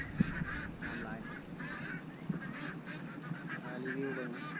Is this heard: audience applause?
no